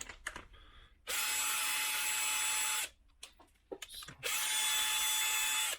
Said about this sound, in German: Ich löse jetzt nach und nach die einzelnen Schrauben.